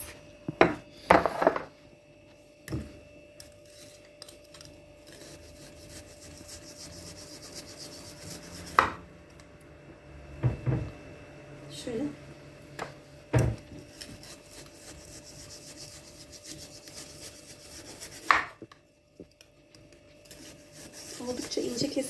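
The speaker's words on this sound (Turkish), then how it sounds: "ben de sizlere buzluyken doğramaya özen gösteririm" Repeated sharp thuds and rasping scrapes of a knife chopping frozen meat, irregular chops spaced across the clip with quieter rubbing between.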